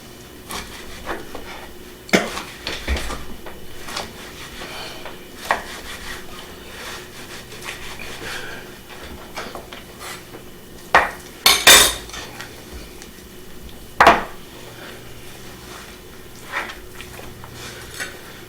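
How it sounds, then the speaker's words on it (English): A knife slicing through beef ribs on a cutting board, with steady soft scraping and rubbing broken by occasional sharper knocks of the blade against wood, close by with no talking. "This time, I'm just slicing them right in the middle."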